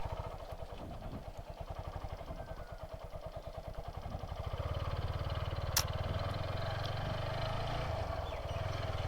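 A power tiller engine runs steadily on a road trip toward a Bangladeshi market, its low rapid thumping pulse continuous and fairly close, growing slightly louder midway with a brief sharp click near the middle.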